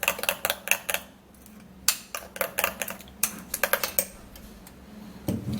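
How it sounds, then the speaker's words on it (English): Spoon clicking against a bowl while mixing a banana and Vaseline face mask, with a string of sharp, close taps and scrapes in uneven clusters and short pauses between them. "Okay, so I'm gonna be mixing this all up together."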